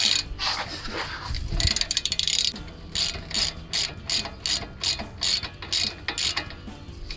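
A ratchet wrench clicks in quick repeated bursts while the bolts on a Jeep Wrangler JK drag link are tightened, the ratcheting close and fairly loud with a denser, rougher stretch at the start and no talking.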